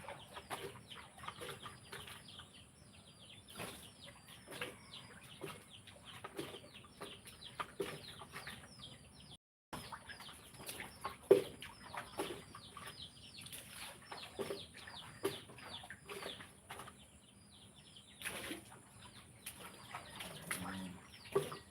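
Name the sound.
rooster clucking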